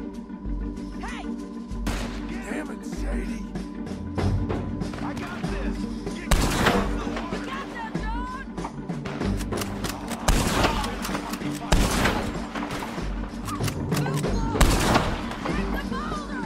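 Gunfire in the video game Red Dead Redemption 2, dense repeated shots and booming blasts over a continuous rumbling battle bed, with voices speaking amid the shooting.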